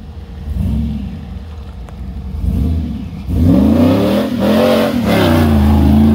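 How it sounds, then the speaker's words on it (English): An LS V8-swapped Toyota Land Cruiser engine revs hard and close, rising in pitch through several loud, sustained pulls with a throaty roar. "You wonder what an LS swapped Land Cruiser sounds like?"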